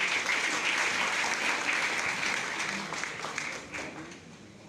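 A live audience applauds steadily through a complete stage show, the clapping dense and sustained before thinning slightly toward the end.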